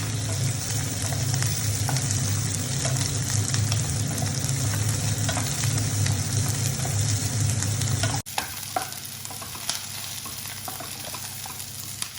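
Onions with green chilli sizzle and fry steadily in a pan, a dense, continuous crackle up close. Partway through it drops suddenly to a quieter hiss with a few faint taps.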